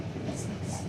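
Passenger train riding through countryside on the way to Yogyakarta, a steady low rumble of the carriage on the rails throughout, with faint high hiss and no clear clatter.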